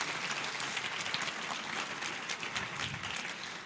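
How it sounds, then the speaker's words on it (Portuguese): Church congregation applauding steadily throughout, a dense wash of many hands clapping at even loudness with no voices above it. "aplauda Jesus mais uma vez"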